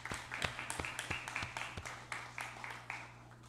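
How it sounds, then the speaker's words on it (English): An audience at a regular legislative session applauds, with scattered distinct claps repeating in an uneven rhythm, fairly faint over a steady low hum. "Let us please give him a round of applause."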